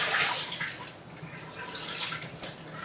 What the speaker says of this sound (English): I filled my stack cooker about halfway with water